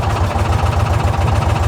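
A John Deere Gator XUV utility vehicle engine runs close by with a steady, low, pulsing rumble, chugging evenly and unbroken without any voices.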